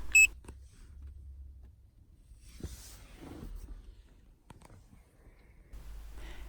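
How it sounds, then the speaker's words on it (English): A ProSmart key programmer plugged into the OBD connector of a 2019 Lexus RX300 gives one short, sharp beep at the start, followed by faint rustling and quiet handling noise. "Green LED lights up and a beep sounds."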